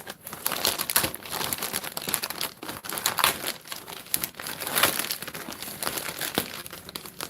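Crinkling and tearing of a heavily taped mailer package being opened, continuous close rustling and ripping without talk.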